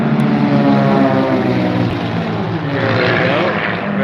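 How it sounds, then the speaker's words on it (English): Propeller planes fly over at an air show, a loud, steady droning roar that swells and shifts in pitch across the whole stretch with no talking. "Oh, here comes the planes again"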